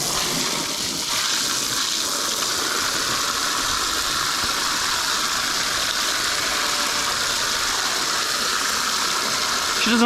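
Water from a garden hose spraying a pig in a muddy pen, a steady loud hiss and splatter running continuously for about ten seconds without pause.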